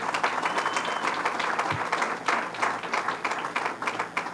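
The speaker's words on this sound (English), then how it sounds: "Let's give him a round of applause." A crowd at a Boricua College announcement claps for a state senator, loud, steady applause filling the room without a break.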